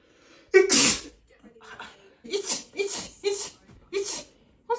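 A man sneezes several times indoors at home, one big sharp burst followed by a quick run of shorter sneezes, close and loud, with small breaths and snorts in between.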